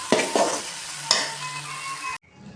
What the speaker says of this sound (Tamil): இது கூடவே கொஞ்சம் சாதத்தை போட்டு நல்லா கலந்து விட்டுக்கணும்